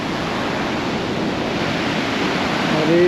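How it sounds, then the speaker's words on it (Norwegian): A waterfall in Norrköping heard from right above it, giving a loud, steady broadband roar of rushing water with no breaks, heard alone. "Vi er rett over fossen, og da bråker det ganske bra."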